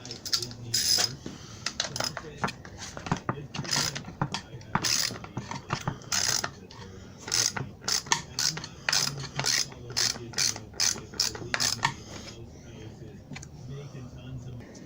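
Ratchet tightening bolts on a 1994 Ford Ranger, rapid clicking bursts repeating in uneven runs close by, with a voice talking between them.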